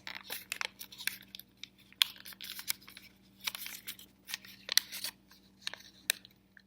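Paper is folded and pressed for an origami craft, a series of close, crisp crinkles and sharp creasing swipes in irregular bursts against a quiet background.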